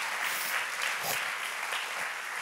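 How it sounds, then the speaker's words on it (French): A congregation applauds the worship team at a French-speaking church service, a dense, steady crowd of clapping hands sustained throughout. "Est-ce qu'on peut applaudir l'équipe de louanges?"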